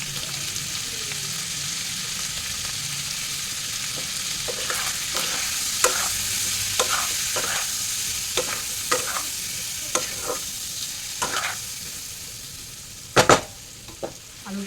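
Potatoes and tomatoes sizzle in a pan with salt and turmeric, a steady hissing fry under a series of sharp scraping and tapping stirs from a spatula, growing more frequent and then a few louder knocks near the end.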